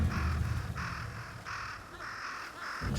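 Crows caw in the video game Ghost of Yotei, around a dead samurai smeared with bait, giving about five harsh, evenly spaced calls over a low ambient background.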